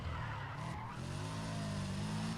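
In the Need for Speed ProStreet video game, a car's tires skid and squeal with the brakes locked up, a loud continuous screech layered over the engine's drone for a couple of seconds.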